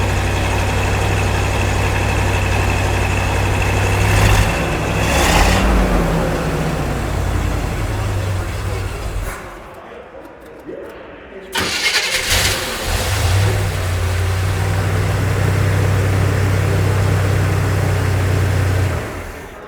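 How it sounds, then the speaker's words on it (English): A big block car engine at an auction staging area rumbles loudly nearby, revs, cuts briefly, then restarts and settles into a deep, steady idle. "Starts up nice, idles nice. That's what a big block sounds like."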